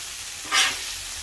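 A brief, bright sizzle from cheeseburger patties of ground beef flipped on a flat top grill, a short hiss that swells and fades over steady background frying, with no voice.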